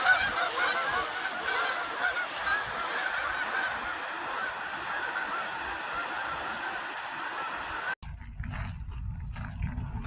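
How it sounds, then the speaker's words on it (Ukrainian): A flock of geese honking while flying south on a Finland trip, a continuous chorus of calls at moderate distance, fairly faint, with no talking. "Літять на південь. Гусі, гусі."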